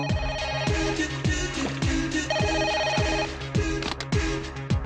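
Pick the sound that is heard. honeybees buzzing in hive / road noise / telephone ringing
telephone ringing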